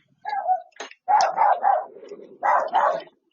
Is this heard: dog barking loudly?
yes